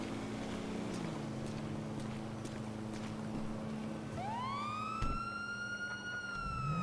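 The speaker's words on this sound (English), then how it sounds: "It's a police car, my own police car." A police car siren in the video game GTA 5 Online rises and wails loudly from partway through, with its sweeping tones over a low engine-like drone and a sharp bump just after.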